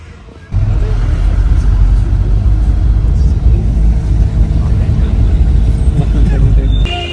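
Car engine idling at a taxi stand in Tangmarg, a steady loud rumble that starts abruptly after a brief quieter moment and continues under background activity.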